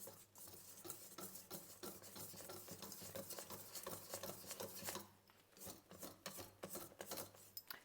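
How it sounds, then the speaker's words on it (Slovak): Flour and baking powder are whisked by hand in a bowl, giving a continuous scratchy rasp of the whisk that stays fairly faint and steady, with rhythmic strokes and no talking. "takže už len metličkou si tú múku aj s kypriacím práškom ručne premiešam"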